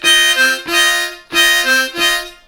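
Bb harmonica plays a song lick at a quicker tempo, four loud reedy blown notes in two pairs, close and bright with no talking.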